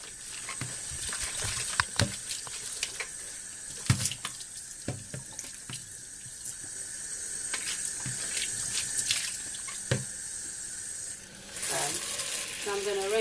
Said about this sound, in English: I'm going to rinse these garlic.